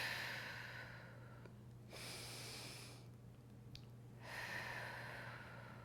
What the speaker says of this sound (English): and exhale through your mouth.